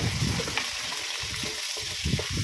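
Garlic and onion sautéing in hot cooking oil in a pan, a bubbly sizzling hiss with irregular spattering bursts, close and moderately loud, no voices.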